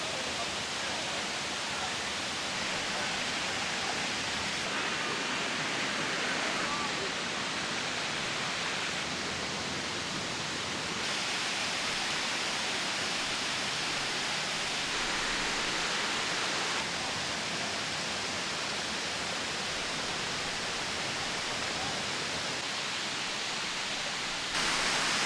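A waterfall on Siquijor island in the Philippines roars as a steady, broad rushing wash of water with no breaks, even in level from start to finish.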